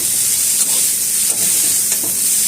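Onion, tomato and cashews sauté in hot oil in a pan, a steady close sizzle and hiss with faint stirring scrapes, for a cauliflower gravy.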